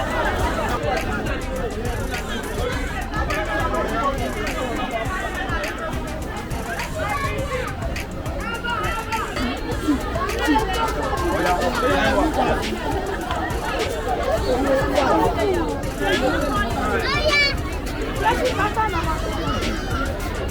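Dense, steady crowd chatter fills a volunteer event in Lagos serving the underprivileged, many overlapping voices forming a loud, continuous babble close around.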